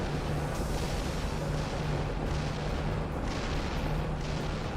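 Explosions and rumbling blasts from the video game Like a Dragon: Infinite Wealth, a dense continuous barrage of booms with a low drone running steadily underneath, fairly loud and without talk.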